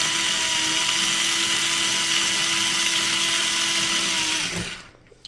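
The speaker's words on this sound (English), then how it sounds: "this drill is wonderful" A power drill driving screws into a light switch plate whirs steadily at high speed for several seconds, then winds down and stops near the end.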